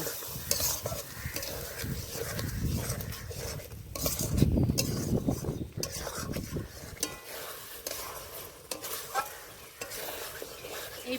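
Spices with turmeric and mutton meat with fat stir-fried in a pan for ghugni, steady scraping and stirring with a metal spoon over a soft sizzle, near and moderately loud.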